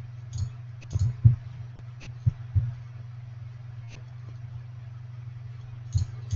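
A computer mouse clicks sporadically during online shopping and listing work, sharp small ticks in scattered singles and pairs over a low steady electrical hum.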